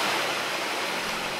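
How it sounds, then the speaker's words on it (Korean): Tumalog Falls in Cebu, Philippines, a tall, thin cascade in tropical rainforest, gives a steady, broad rush of falling water with no talk. "아주 높은 곳에서 물이 가늘게 떨어지는데요."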